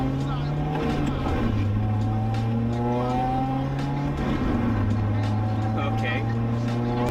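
An Acura RSX with a manual gearbox and racing shifter cable bushings drives around the block, its engine droning steadily and shifting pitch with gear changes from inside the cabin while someone talks.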